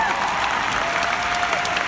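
An audience claps in a steady wash of applause, dense and sustained throughout without a break.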